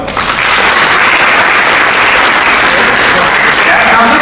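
Loud, dense applause from an audience at a career guidance event in Dubai, steady and sustained throughout with cheering mixed in, filling the room for around four seconds.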